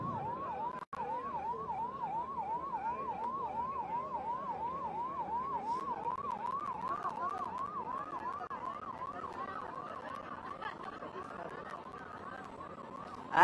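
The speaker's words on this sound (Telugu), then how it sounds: "అంబులెన్స్ దారి ఇవ్వండి అమ్మా, దయచేసి" Ambulance siren wailing steadily in a rapid rising-and-falling pattern throughout, loud and continuous over the murmur of a crowd at a political rally, with a brief break near the start.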